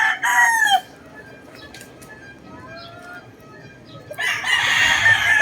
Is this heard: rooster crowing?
yes